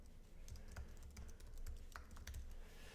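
Typing on a computer keyboard to enter a search term, quick uneven bursts of close clicking keystrokes with short gaps over a low background hum.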